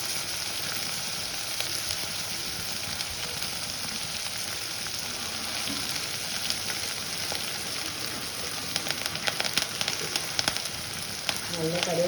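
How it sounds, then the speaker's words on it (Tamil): Garlic and curry leaves sauté in a pan for vendaikkai sambar, giving a soft, steady sizzle with scattered crackles and pops throughout and occasional faint stirring, fairly quiet and without speech. "பூண்டு எல்லாம் வதங்கட்டும்."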